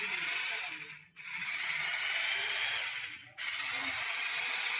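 A 1650-watt hammer drill fitted with an AC core bit runs with a high, buzzing whine, dropping out twice as the trigger is briefly released before spinning back up.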